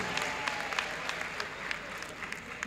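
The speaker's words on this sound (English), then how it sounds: "A round of applause for him, please." Audience applause at a university inaugural lecture carries on steadily for a few seconds, a soft, even wash of many hands clapping without any talk over it.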